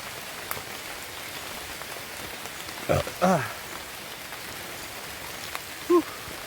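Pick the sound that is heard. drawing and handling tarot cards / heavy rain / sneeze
heavy rain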